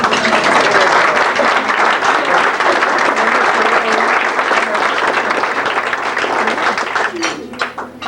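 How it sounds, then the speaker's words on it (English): Loud, dense applause from a conference audience of Veterans Upward Bound staff in San Juan, Puerto Rico, a continuous roar of many hands clapping close by that thins out toward the end. "Please give them a big round of applause."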